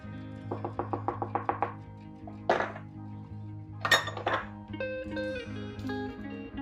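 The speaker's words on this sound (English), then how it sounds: "I like to give that a little whisk just to make sure that it all comes together nicely" Dry sugar cookie ingredients are whisked in a bowl, first as a quick run of light metallic clinks, then a few louder knocks against the bowl, close and clear.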